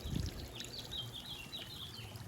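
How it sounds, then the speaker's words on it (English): Water from a backyard waterfall flows steadily at night, a soft continuous splashing wash, fairly faint and alone without voices. "So nice when you sit out here at night and you hear the water. Sound of the water."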